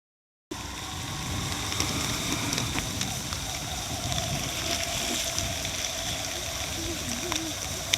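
Rainwater rushing and flowing through a new areca nut plantation after heavy rain, a steady, fairly loud hiss of moving water that starts abruptly and continues without a break.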